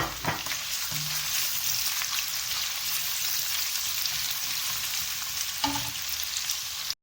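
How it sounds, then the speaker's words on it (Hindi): Thinly sliced onion fries in hot oil toward golden brown, giving a steady, soft sizzle and crackle. Now and then a spoon scrapes and stirs the pan, all at a low level with no talking. "एक प्याज हम इसमें ऐड करेंगे, तो अच्छी तरह से गोल्डन ब्राउन कर लें"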